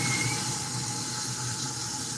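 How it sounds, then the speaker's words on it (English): Cold water runs from a kitchen sink tap, a steady rushing hiss with a faint whine in the pipes, close and continuous. "The cold water makes noises."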